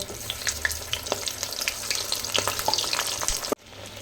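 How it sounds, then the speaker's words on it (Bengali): Eggplant pieces fry lightly in oil, a steady crackling sizzle with scattered sharp pops and stirring scrapes throughout, close and fairly loud, cutting out abruptly near the end before resuming. "বেগুনটাও হালকা হালকা ভেজে নেব"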